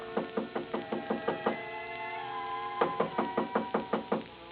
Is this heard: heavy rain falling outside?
no